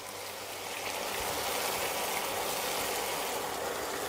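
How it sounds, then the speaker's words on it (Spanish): Whisky or brandy splashed into a hot pan with cuttlefish boils off in a loud, steady sizzling hiss that swells slightly and holds. "me gusta echar un chorrito de whisky, coñac, vino blanco y hacer evaporar ahí fuertemente"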